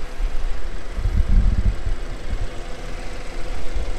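A 2016 BMW 520i Luxury F10 LCI engine idles with its hood open, giving a steady low rumble and hum with slight fluctuations, close and continuous with no voices.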